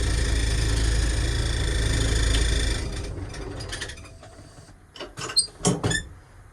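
A Cummins diesel in an M920 military truck rumbles steadily at a slow, lazy idle with a deep low drone, then the running sound drops away and is followed by a few sharp mechanical clatters and knocks.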